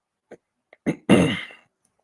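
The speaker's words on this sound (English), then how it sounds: "Yeah, clear my throat." A man clears his throat in a couple of short rough bursts, loud and close, after a few faint clicks, with no speech around it.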